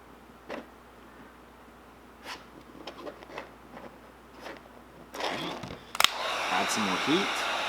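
A heat gun blows with a steady airy whoosh, starting around midway and growing louder toward the end. It warms a vinyl graphics wrap on a Traxxas Maxx 4S RC truck body, with scattered handling scrapes and rustles before it.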